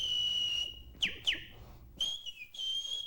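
A loud, piercing human whistle from a football fan inside a domed stadium: a long sustained tone, two sharp upward-swooping blasts, then more held notes, with crowd noise low underneath.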